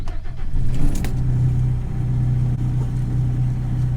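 A combine harvester, set up for combining or foraging, runs loudly and steadily nearby, its heavy engine rumble and droning hum continuous throughout, with a few brief clanks near the start.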